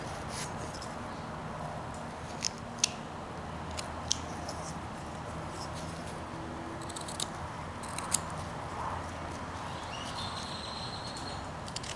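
A knife makes straight whittling cuts into a wooden big-headed miniature figure, producing faint, sharp clicks and scrapes spaced a second or two apart over a soft steady background.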